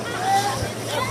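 Sea waves surge and break around swimmers at Sugondha Beach in Cox's Bazar, a close rushing wash mixed with wind noise and a babble of voices from bathers nearby.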